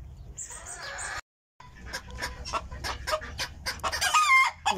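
A domestic hen cackles after laying an egg, a close run of loud, repeated clucks and squawks rising in intensity, with a brief silent gap early on.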